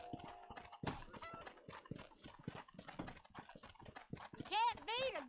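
A horse's hooves clop in a steady rhythm in the video game Red Dead Redemption 2, faint and close under someone talking, with a horse whinny near the end.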